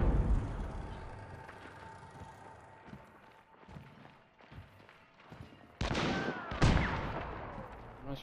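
Scattered gunfire in the video game Hunt: Showdown: muffled distant shots and thuds through the first half, then two sharp, louder reports close by near the end, over faint background noise.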